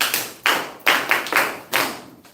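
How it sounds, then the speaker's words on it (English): A few scattered claps from a small group, five or six distinct bursts spaced unevenly over a couple of seconds, fairly close and moderately loud. "Give her a round of applause"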